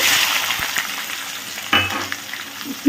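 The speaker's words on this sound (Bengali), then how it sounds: "নুন দেব কারণ তাহলে কী হবে পেঁয়াজটা সুন্দর করে নরম হয়ে ভাজা ভাজা হয়ে যাবে" Onions with torn bay leaves fry in a pan, giving a continuous close sizzle broken by a few sharp knocks and scrapes of utensil against the pan.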